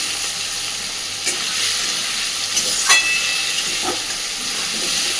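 Cut potatoes fry in a pan with a steady, close sizzle and hiss, broken by a few scraping stirs and clinks of the spatula.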